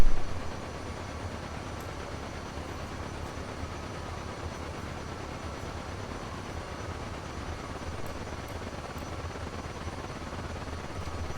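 Steady propeller-plane engine drone from Kerbal Space Program, running at low throttle, a continuous even hum with no talk over it.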